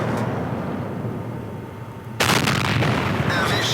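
A single heavy tank cannon shot from a Löwe in the World of Tanks video game: one loud, sharp blast that cuts abruptly through a quiet, low ambient hum and leaves a sustained rumbling tail.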